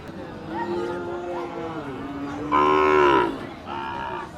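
Cattle moo repeatedly at the Patgram cow market, where small and medium cows are tied up beside buses, with long drawn-out calls close by over a faint background hum of the market.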